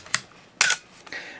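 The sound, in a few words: Canon AE-1 Program camera shutter on bulb setting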